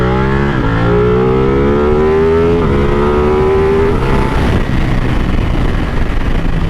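A 2017 Ducati 959 sport bike engine revs loud and close on a test ride, rising in pitch through the gears with a brief shift drop, then settling into a rough, steady drone.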